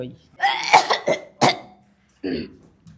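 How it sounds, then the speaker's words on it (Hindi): A woman coughs in several sharp, close bursts in quick succession, then a pause and another short cough-like sound, loud and alone in a quiet room. "अब क्या खांस रही हो जो कैसो खांसन लगी है?"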